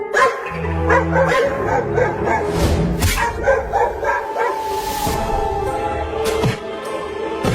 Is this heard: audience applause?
no